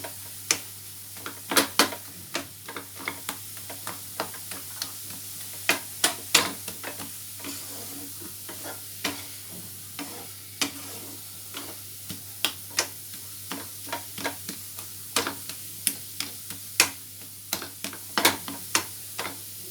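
Besan (gram flour) roasting in ghee with a soft continuous sizzle, punctuated by sharp spoon clicks and taps against the pan at an irregular stirring rhythm, close by with no voices.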